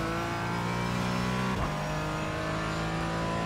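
Race car engine from the iRacing sim racing game during a quicker lap, a loud steady droning tone with strong harmonics that dips and shifts pitch briefly midway as if on a gear change, then holds on without any talk.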